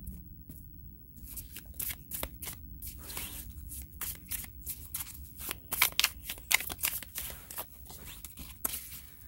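Tarot cards being shuffled by hand, a run of quick riffling bursts and soft slaps repeating over several seconds, close and fairly quiet, with no talk.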